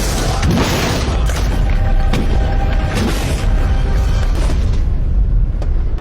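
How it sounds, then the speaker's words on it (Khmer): Video-game gunfire pounds at a Lamborghini in continuous, loud, dense booming bursts that run throughout with no break. "តោះឆាប់បាញ់ថែមទៀតមក"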